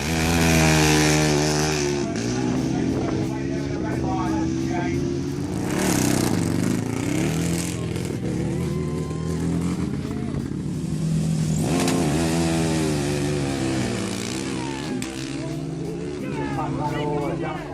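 Homemade racing van fitted with a 500cc four-stroke engine, a loud buzzing drone that revs up and down continuously throughout, rising and falling in pitch.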